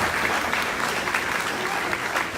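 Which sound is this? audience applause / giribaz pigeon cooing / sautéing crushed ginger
audience applause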